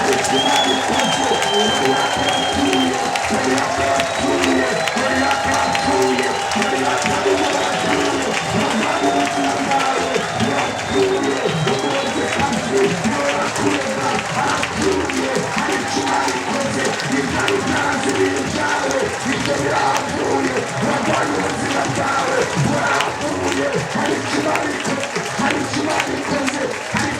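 A congregation applauds steadily and densely throughout an Easter-preparation prayer service in a church, with voices and faint musical tones running beneath the sustained clapping.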